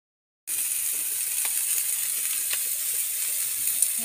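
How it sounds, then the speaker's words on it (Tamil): Ginger, onion, tomato and curry leaves sautéing in a pan for a pasta dish, a steady close sizzle that starts abruptly after a moment of silence, with faint stirring clicks. "லைட்டாக வதக்கி விட்டுக்கலாம்."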